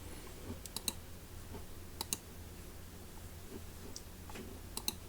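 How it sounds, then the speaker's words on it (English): Sparse, quiet computer mouse clicks in small clusters, sharp and close, heard through a Marvo MIC 03 USB gaming microphone over a faint low hum. "So clicking on the mouse there to see the various images."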